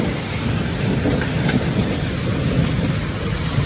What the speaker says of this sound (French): J'ai rarement vu de la grêle comme ça ici.